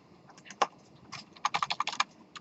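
Typing on a computer keyboard in a classroom setting: a few scattered keystrokes, then a quick run of about eight clicks close by, with no talking.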